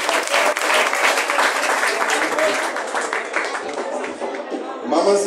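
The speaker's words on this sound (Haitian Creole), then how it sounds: "Applaudissez encore une fois." Dense, loud applause from a church congregation fills the whole stretch, steady clapping that swells again near the end, with voices mixed into the crowd noise.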